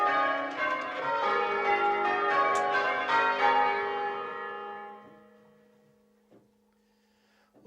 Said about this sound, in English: that short exploration into the ancient exercise of bell ringing